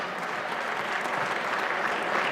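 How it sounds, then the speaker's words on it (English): Donors in an audience clapping at an association address, a brief burst of dense, steady applause from a roomful of people, fairly close and even. "Give yourself a big round of applause."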